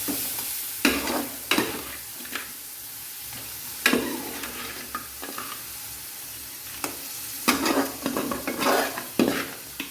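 Prawns sizzle and crackle in a hot pan as they are stirred into a crab dish, with loud intermittent scrapes of a spoon against the pan over a continuous frying hiss.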